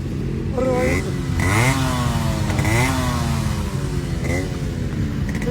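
A Yamaha RX 100 motorcycle engine revs among superbikes, with several sharp throttle blips rising and falling in pitch over a loud continuous idle, close by, while other bikes run in the background.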